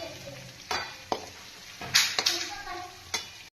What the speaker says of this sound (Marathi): मी आलं लसणची पेस्ट फ्राय करून घेतली. आता त्याच्यात मिरची आणि कढीपत्ता घालू.